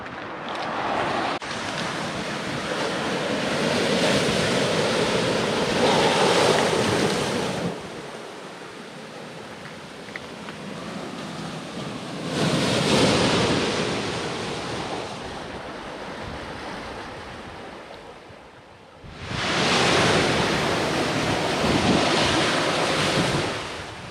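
Ocean waves surging against the rocky coastline at Ocean Point, Maine, in broad washes that swell and recede three times, loud and near with wind buffeting the microphone.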